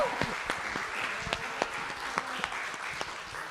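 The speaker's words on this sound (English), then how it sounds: "give another round of applause for Lexi Leilani." A small crowd claps and applauds, scattered hand claps over a soft murmur of voices, moderately close and fairly light.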